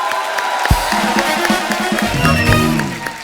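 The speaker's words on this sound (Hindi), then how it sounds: "जोरदार तालियां।" Loud, sustained applause and cheering from a large TV comedy show studio audience, with voices shouting over the steady clapping.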